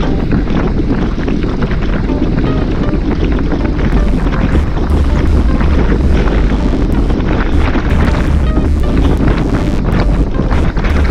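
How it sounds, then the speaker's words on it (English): Strong wind buffets a microphone during a group bike ride heading east, a loud constant roaring rush that fills the whole stretch with no pauses. "Hear that wind?"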